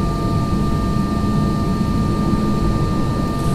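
Steady, even jet engine roar from inside an Airbus A320 cabin with Pratt & Whitney PW1000G geared turbofan engines, a broad low rumble with a thin constant whine running unbroken throughout.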